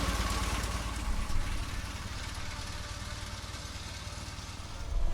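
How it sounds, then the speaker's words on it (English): A Foden steam wagon engine chugs steadily with a low, rhythmic mechanical pulse at a steam gala at Beamish, moderately loud and continuous, with faint background noise. "Foden steam wagon heads for another circuit around Beamish."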